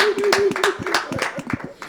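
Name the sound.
audience applauding for the pastor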